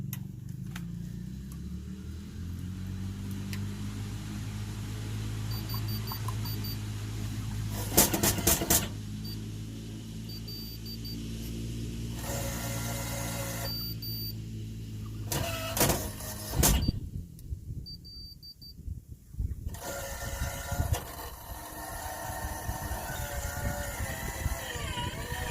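A screw is driven into the bottom of an AdorStore ADOR1 automatic chicken coop door, giving repeated short motorized whirring bursts with pauses between them, close and moderately loud.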